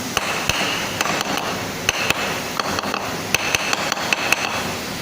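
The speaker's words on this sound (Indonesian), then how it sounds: "Kemudian kita pukul untuk memastikan penjepitan kita aman." A hammer strikes a metal workpiece clamped in a milling machine vise, sharp tapping blows in irregular bursts of two or three, close and fairly loud over a steady workshop background.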